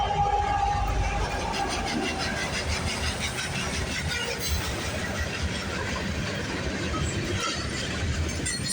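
CPKC 230 freight train led by CP 6644, a World War II Veterans unit, rolling past with a continuous low rumble and rhythmic clatter of wheels over rail joints, the locomotive engine droning, faint voices underneath.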